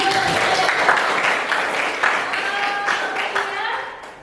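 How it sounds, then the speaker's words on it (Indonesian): A classroom of students applauds during a lesson, with steady mixed clapping from many hands at moderate distance that keeps going and fades toward the end. "Kita kasih aplaus dulu."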